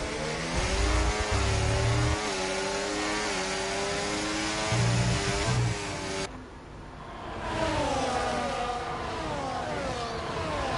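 Race cars lapping a Mexico circuit in a sim racing league race, a steady, loud whine of high-revving engines rising and falling through gear changes, with several cars layered close together.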